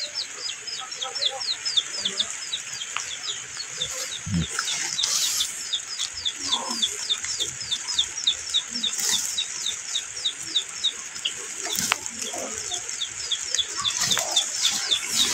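Small chicks chirp steadily and rapidly near a garden plot, with occasional louder cheeps, light rustling and soft bumps, and faint farm-animal sounds in the background.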